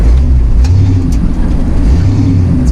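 A 1969 Dodge D100 Sweptline pickup truck rounding a corner, its engine giving a loud, steady low rumble close by, with a few faint clicks and rattles over it.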